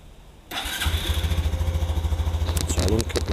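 A Honda Super Cub motorcycle engine fires up after a brief quiet moment, catching quickly and settling into a steady, throbbing idle close to the microphone.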